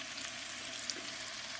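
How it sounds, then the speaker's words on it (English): Peppers and mixed vegetables sizzle steadily in a pan of melted butter and olive oil over turned-down heat, a close, continuous bright crackle with no talking. "just listen to that sizzle"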